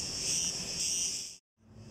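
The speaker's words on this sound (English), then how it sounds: "it's time to sit back and embrace the cicada song" Cicadas sing in a loud, continuous, shrill buzz at close range that cuts off abruptly and then returns more faintly.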